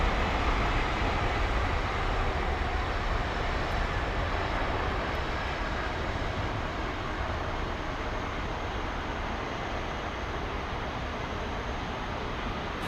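A heavy jet powered by CF6 engines departs Heathrow. A constant, fairly distant engine roar with a broad rushing texture holds evenly throughout and fades slightly toward the end.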